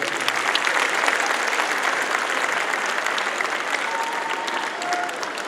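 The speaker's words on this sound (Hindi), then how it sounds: "मैं चाहूँगा उनके लिए भी एक बार जोरदार ताली बजाइए" Audience applause at an Arya Samaj 150th anniversary ceremony, a dense and steady roar of many hands clapping together, loud and sustained without a break from start to finish.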